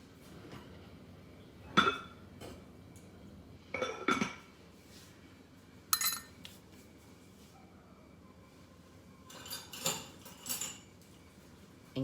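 Flour and salt being stirred together in a bowl, a few sharp clinks of a utensil against the bowl at irregular intervals, fairly faint with quiet gaps between them.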